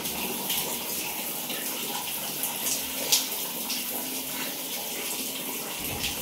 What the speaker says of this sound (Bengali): আমার বাবুকে এবার স্নান করাবো।